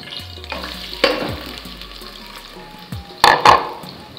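Chopped onion dropped into a hot pan of oil while preparing stockfish, giving a close crackling sizzle with a few louder sputters and clatters of the utensil, no talking.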